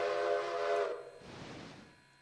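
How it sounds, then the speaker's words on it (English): A steam locomotive whistle sounds in the Railroader train simulation game, one loud, steady, harmonic blast lasting under a second, then fading into a breathy hiss of steam. "Let's blow the whistle."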